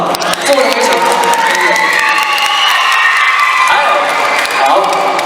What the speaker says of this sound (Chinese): 我们给自己一个掌声好不好？